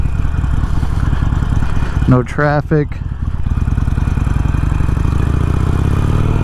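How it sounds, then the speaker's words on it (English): A Harley-Davidson Sportster Iron 883 with a quiet exhaust gives a steady, moderate rumble while riding on back roads, with a short stretch of someone talking partway through. "The exhaust is quiet"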